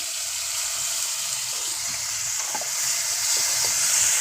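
Tomatoes with cumin frying in oil over a wood-fired chulha, a steady close sizzle with soft stirring clicks, growing slightly louder toward the end.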